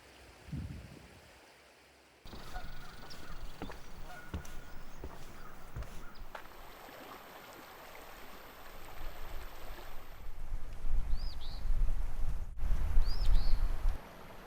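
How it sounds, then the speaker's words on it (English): Whitewater River flowing through a small canyon below a bridge near Chimney Rock, a steady broadband rush of moving water with a few birds calling and brief handling noises. "I'm on a bridge near Chimney Rock where the Whitewater meanders through a small canyon."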